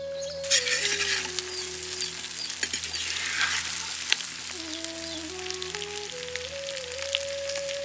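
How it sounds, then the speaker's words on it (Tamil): Fried tuna pieces go into hot oil in a pan for fish pickle, giving a steady, close sizzle with faint stirring, while soft tonal music plays underneath. "இப்போ நம்ம பொரிச்சு வச்சிருந்த மீனை சேர்த்துக்கலாம்."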